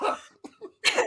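A child coughs up close, one harsh burst followed by two short weaker coughs and then a longer rough cough, with no talking.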